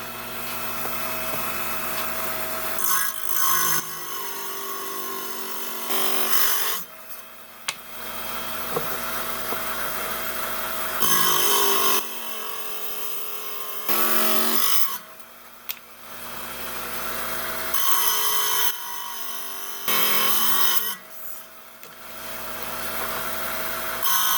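A lapidary saw trims a slab of jasper with a loud, steady grinding whine that surges and dips as the blade bites through the stone. The cuts come in repeated passes separated by brief quieter gaps, all close up with no talk.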